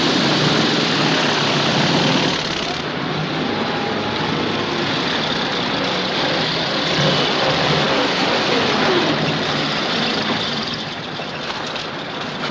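An armored truck races along in a 1939 film chase, its engine a loud, constant rumbling roar that runs unbroken for several seconds and eases slightly toward the end.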